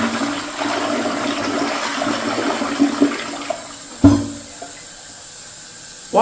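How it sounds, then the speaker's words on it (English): A Project Source Proflush elongated 1.28-gallon toilet flushes with the handle held down: a steady rushing swirl of water that fades into a quieter refill hiss, broken by a couple of small knocks. "Now let's get a more full flush with the handle held down."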